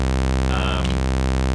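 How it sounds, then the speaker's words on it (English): Looped sawtooth single-cycle waveform played at C2 on an Elektron Analog Rytm: a short buzzy tone of about half a second rising out of a steady low hum, heard alone. "let's use the Sawtooth Wave C2"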